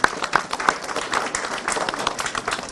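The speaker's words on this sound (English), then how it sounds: "Please give him a round of applause." Audience applause breaks out for a Conservative member of Parliament at a Vaisakhi celebration on Parliament Hill in Ottawa, steady dense clapping from a crowd throughout, fairly close and even in loudness.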